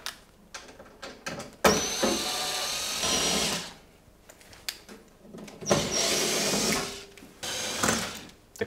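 Power drill unscrewing screws from a tumble dryer during a belt tensioner replacement, giving several close, loud whirring bursts of a few seconds each, separated by clicks, handling noise and short pauses.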